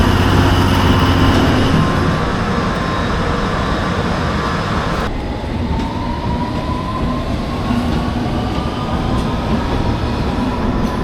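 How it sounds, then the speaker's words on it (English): A London Underground Piccadilly line train heading to Acton Town runs with a loud, steady rumble of wheels and motor, with a brief high squeal of the wheels partway through and no voices. "I'm going to take this train now to Acton Town"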